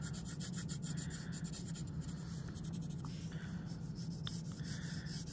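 Colored pencil scrubbing colour hard and evenly onto paper, a steady, close, continuous scratchy rasp with no pauses and no voices.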